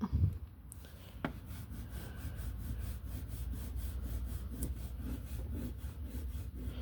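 Crayon rubbing steadily back and forth across a paper Peeps Easter coloring page, a close, continuous scratchy stroking with fine rhythmic pulses that runs for several seconds without talk.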